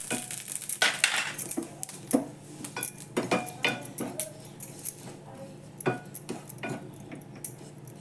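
Poppy seeds and coconut roasting in a pan, with clinks and scrapes of a utensil against metal in irregular bursts over a quiet background, close and fairly soft.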